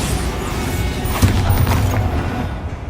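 Bombarda blasting spell in Hogwarts Legacy, a deep rumbling explosion that bursts about a second in and rolls on for over a second, loud and close, with no talk.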